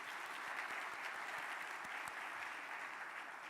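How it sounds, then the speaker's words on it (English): A crowd at an annual meeting's opening plenary session gives a steady round of applause for grant recipients, a dense sustained wash of clapping heard from a distance, fairly faint and with no voices over it. "A huge round of applause for them."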